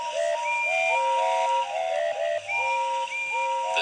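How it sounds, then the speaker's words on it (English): Steam engine whistles from a children's railway story, several tuned whistle blasts overlapping and stepping up and down in pitch, loud and close, in a continuous celebratory chorus with steady hiss beneath. "But the rest of his speech was drowned in a delighted chorus of cheers and whistles."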